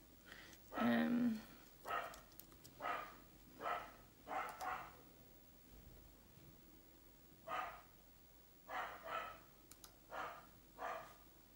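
A dog barks repeatedly in single and paired woofs spaced a second or two apart, at a moderate distance and fairly faint, with a short lull partway through.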